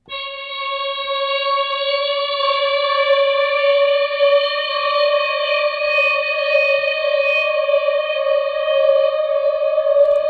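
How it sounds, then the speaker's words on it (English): A sustained keyboard synthesizer tone with rich harmonics holds steady for ten seconds, bending slightly upward via the pitch wheel, washed in reverb and echo. "take a single note and hold it, and I'm going to pitch it up with the pitch wheel on the keyboard"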